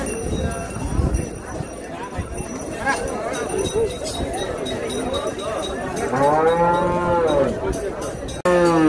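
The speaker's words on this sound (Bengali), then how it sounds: "এই গরুটি হযরতপুরে ঢুকতেছে" Cattle mill about at the Hozrotpur cattle market, with a crowd's chatter and shuffling throughout and one clear, loud moo near the end, followed by a sudden brief jolt of noise.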